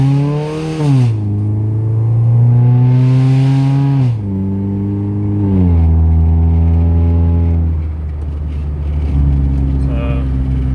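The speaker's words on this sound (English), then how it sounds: "on the outside it's still pretty much the same, but I can still hear the exhaust on the inside" A car fitted with a Dynomax Race Bullet exhaust accelerates close by, its engine note climbing and dropping through several loud revving pulls over about ten seconds.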